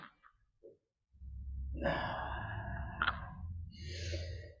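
During a yoga practice, someone draws a long, audible breath in and lets it out, close and soft, with a slight rasp and a brief catch partway through.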